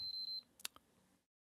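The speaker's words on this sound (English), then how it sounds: "my PlayStation did the triple beep" A PlayStation console sounds its triple beep, three quick high-pitched tones close together, followed by a couple of soft clicks before silence.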